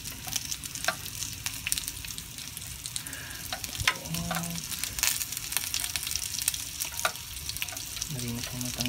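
Thinly sliced onion frying in a pan, a steady dense sizzle with crackling pops and occasional scraping stirs throughout, close and clear with no talking over it.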